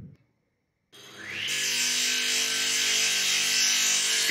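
After a brief silence, a sawmill in the video game OpenTTD kicks in and grinds steadily through wood, a continuous rasping whine that holds loud to the end.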